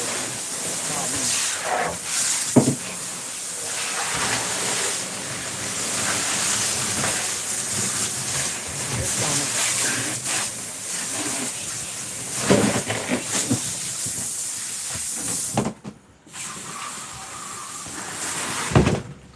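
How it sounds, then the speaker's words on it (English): Steady hissing rush of running water, from cleaning a large flathead catfish, fills the whole stretch, with a few louder splashes and knocks, briefly cutting out near the end. "Sorry about the water noise"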